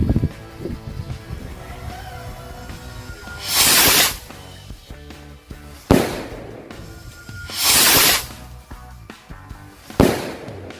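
Loud King Rocket firework rockets whoosh and burst several times in succession, each sharp blast followed by a hissing fizz and lingering crackle.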